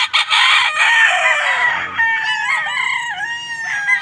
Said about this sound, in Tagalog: iukutin uli natin itong mga alagang manok natin dito